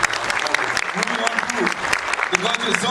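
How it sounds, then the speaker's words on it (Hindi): Loud, dense applause from a crowd, steady clapping filling the whole stretch without pause. "पाजी के लिए एक बार जोरदार तालियां"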